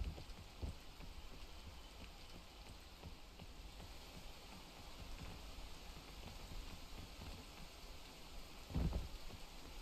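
Steady rain falls in the video game Peak, a continuous broadband patter at even level with a couple of brief louder thumps near the start and end, and no voices.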